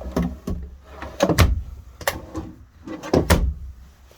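Full-extension drawers in a Freedom Elite 26HE RV slide and knock shut, a series of loud close thuds and rolling rattles in two clusters without talk.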